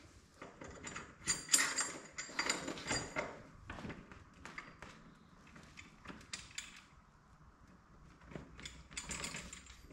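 A wrench tightens lock nuts on a Brinly 42-inch lawn sweeper assembly, making faint metallic clicks and ratcheting taps in irregular bursts, close by with no talk.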